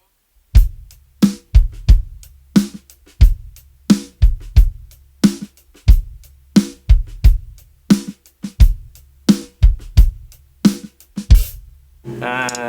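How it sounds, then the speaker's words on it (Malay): Drum kit groove with ghost notes, evenly spaced loud kick and snare hits alternating with softer in-between strokes, close and dry with no talking, closing on a brief sustained tone. "this is how I would play the pattern with with addition of ghost notes."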